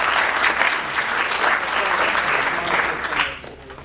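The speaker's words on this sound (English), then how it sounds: "a round of applause" Steady applause from an audience at an awards ceremony for poster presentations, a dense even patter of many hands clapping throughout before easing slightly at the end.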